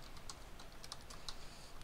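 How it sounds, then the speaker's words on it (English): Typing on a computer keyboard while setting up a Counter-Strike: Source server, with a run of quick, light key clicks over a steady background hiss. "Now what you're going to do is you're going to type force"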